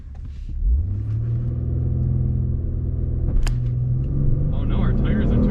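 A 2021 Lexus LS 500 F Sport does a full launch, its engine roaring up from a low rumble into a loud, sustained pull that holds close, with a brief sharp squeal partway through and voices speaking near the end.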